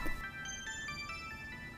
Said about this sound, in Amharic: ስልክሽ እየጠራ ነው።